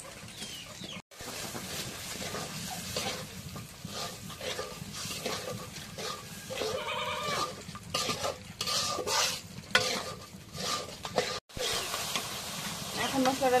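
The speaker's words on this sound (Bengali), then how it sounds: "এখন মশলাটা লাল লাল কষানো হয়ে গেছে।" Cumin, ginger and garlic pastes frying for a village-style chicken khichuri, under constant rhythmic scraping and stirring with a steady sizzle, close and busy, with chickens clucking faintly in the background.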